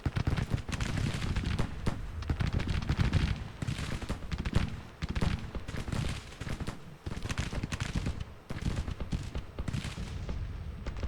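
Civil War artillery battery firing in Grand Tactician: The Civil War, a dense barrage of booming cannon and gunfire blasts rolling on continuously, loud and close, with overlapping volleys and no pauses.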